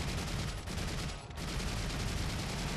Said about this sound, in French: Voilà, hop, un petit peu de mitraillette. Pour économiser les balles de sniper.